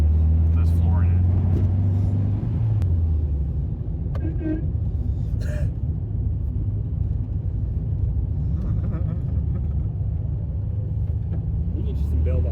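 A 1974 VW Super Beetle engine at full throttle, a loud, steady low rumble from inside the car with a brief rising rev near the start and faint voices over the drone.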